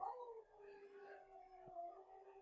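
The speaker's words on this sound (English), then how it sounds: "Now I've got my Huskies wanting to do their howl." Huskies howling in a sustained, wavering chorus, with long drawn-out tonal howls that overlap and slowly shift in pitch, heard at moderate distance and fairly quiet.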